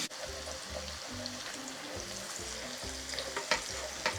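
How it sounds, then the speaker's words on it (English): Onions sizzle steadily in bacon grease and butter in a hot pan for a potato chowder, a dense continuous frying hiss with occasional louder crackles and pops, close and alone with no talk. "a little bit of butter to soften these onions"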